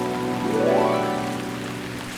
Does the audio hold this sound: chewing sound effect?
no